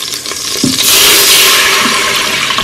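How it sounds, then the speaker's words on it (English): Water poured into an Instant Pot, making a steady rushing, splashing pour that swells partway through and holds close and loud to the end. "Now I'm going to pour in my cup of water because you need your cup of liquid"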